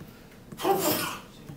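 A single sneeze bursts out from someone in a lecture hall during a data structures class, a short sharp broadband blast standing alone above the quiet room tone.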